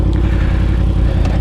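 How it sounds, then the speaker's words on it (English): A motorcycle's exhaust note rumbles loud and close as the engine revs, a steady, dense growl holding for the whole brief moment. "It's just an excuse to hear that exhaust note a little bit more."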